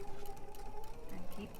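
A sewing machine runs in a quick, steady mechanical chatter while backstitching a seam, heard close, with a faint voice in the background.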